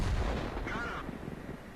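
A tank cannon fires in the World of Tanks game, driving the T37: a single loud, booming shot with a dense low rumble that decays over a second or so.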